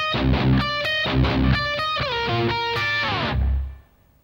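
Heavily distorted electric guitar plays a break with the full band, loud chugging chords and bending notes, drums and bass pounding underneath, ending in a sustained ringing chord that cuts off.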